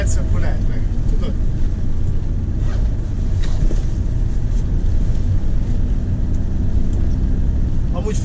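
A motorboat engine drones steadily beneath strong wind buffeting, with people talking intermittently in Hungarian over the constant low rumble, on a boat in Thailand.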